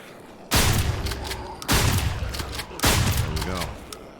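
Three loud shotgun blasts from the HumanitZ zombie survival game at a military camp, each a sharp boom at roughly one-second intervals with a lingering decay, fired at approaching zombies.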